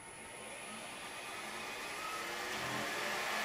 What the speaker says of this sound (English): This is a really cool lathe.